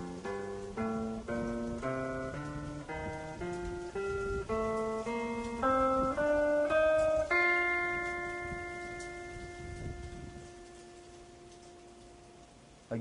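A plucked guitar climbs an F Mixolydian scale one note at a time at a steady pace, then rings out on a final sustained note that slowly fades.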